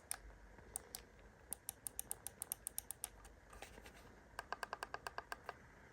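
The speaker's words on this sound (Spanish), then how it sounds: "por los clics o los ruidos que este emite." Micro switch buttons on a GameSir G7 controller are pressed in quick, irregular runs of sharp, light clicks, close up and crisp over quiet background.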